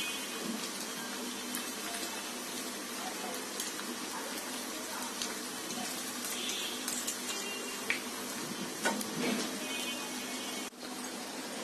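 Chicken kababs being turned while frying in hot oil in a pan, a steady moderate sizzle with a few scattered clicks and knocks.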